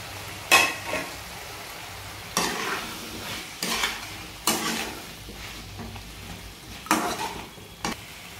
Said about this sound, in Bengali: দেন এই পর্যায়ে আমি সবজিগুলোকে অ্যাড করে দেবো।